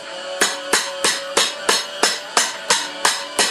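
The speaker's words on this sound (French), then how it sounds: "La cambrure au marteau." A cobbler's hammer strikes a boot sole being shaped, ten sharp, evenly spaced blows ringing out in a steady rhythm, close and loud, each with a short metallic decay.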